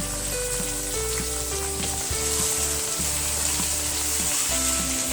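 Chicken frying in a pan with onion and ginger-garlic paste for Sindhi biryani, a steady close sizzle with low stirring thumps and scrapes running throughout, no voices.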